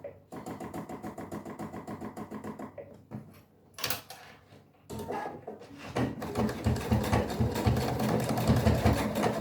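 A sewing machine stitches a bicycle-shaped toiletry bag in fast rapid-fire bursts, stopping and restarting with soft handling noises and a brief clack in between, then running longer and louder near the end.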